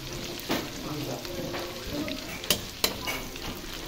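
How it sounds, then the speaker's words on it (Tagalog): Ingredients for pancit bihon sautéed in a pan, a soft continuous sizzle with scraping stirs and a few sharp utensil knocks against the pan, fairly quiet and close. "Ayan, gisa-gisa muna."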